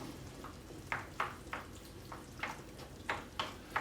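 A tomato base with paprika is stirred in a pan, giving a run of soft, rhythmic scraping strokes roughly every third of a second over a low, quiet sizzle, with no talking.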